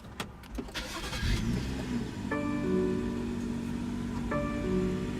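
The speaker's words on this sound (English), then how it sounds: "what you're hearing there is a 3-liter turbocharged 6-cylinder engine" A BMW X5 F15's 3-liter turbocharged six-cylinder engine cranks and fires, then settles into a smooth idle, with a faint electronic chime tone sounding twice over the hum.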